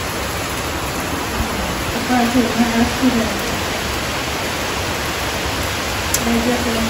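Heavy rain pouring steadily during the Durga Puja season, a dense, loud, unbroken hiss with faint voices briefly audible beneath it.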